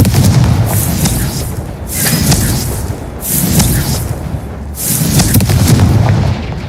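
Repeated booming blasts of the Confringo explosion spell in Hogwarts Legacy, four loud bursts each trailing into a rumbling crackle, arriving about every one and a half seconds.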